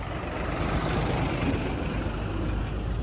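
A tractor engine rumbles low and steady at a farmers' gathering heading to Delhi, a continuous throaty drone close by with no voices over it.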